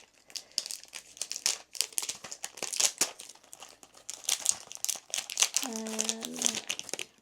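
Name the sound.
opening Diptyque candle box packaging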